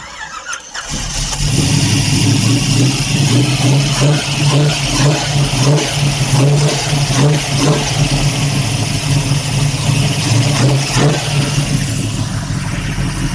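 A car with a weak battery is cranked and starts, settling into a loud, steady running engine close by, with a brief gap before it catches and then continuous idle rumble.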